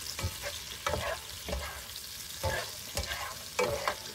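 Eggplant and chicken fry in a pan under a constant sizzle, with a spoon stirring in repeated rhythmic scraping strokes roughly every half second, close and fairly loud.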